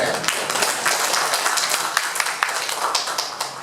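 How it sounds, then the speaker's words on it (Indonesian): A gathering applauds the chairman at a Muhammadiyah anniversary and inauguration event in Pondok Kelapa, a short burst of close, dense clapping from a small crowd at a steady, moderate level. "Maka dari itu tepuk tangan dulu buat Pak Ketua saya."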